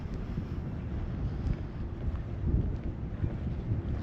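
Wind blowing steadily across an open area on a breezy day, a low rumbling gusty roar buffeting the microphone continuously throughout, with no voices.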